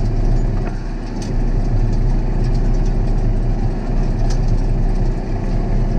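Tractor engine running at low revs during mechanized garlic planting, a steady deep drone with strong low harmonics, close and unbroken.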